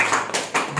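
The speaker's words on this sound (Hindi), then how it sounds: "यीशु मसीह के लिए ताली बजाएं।" A church congregation clapping hands during worship, a few distinct loud bursts of many hands striking together in a quick irregular rhythm, close and clear.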